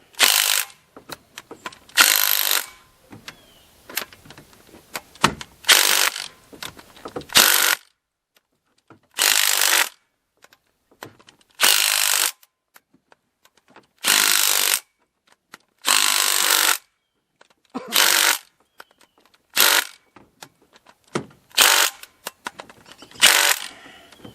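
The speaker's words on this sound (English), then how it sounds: "that's not the right way to torque your bolts. But that's just how I torque them down" Ratchet clicking as it torques down cylinder head bolts on a Subaru FB20/FA20 engine during head gasket replacement: about ten loud, close bursts of rapid clicks separated by short pauses, with no talk.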